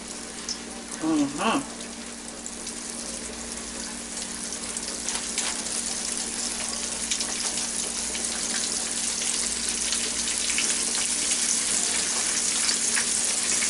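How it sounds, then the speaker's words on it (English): Steady, loud sizzling of flour-coated chicken frying in hot oil fills the clip, with a brief clatter near the start and a constant crackling hiss throughout. "hear that sizzling?"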